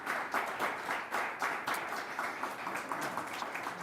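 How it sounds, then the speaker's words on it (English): An audience at a school board meeting applauds the Board of Education, a modest room of clapping with individual claps audible in a loose rhythm, steady and moderately loud with no speech. "Members of the audience, can we please give our Board of Education a round of applause"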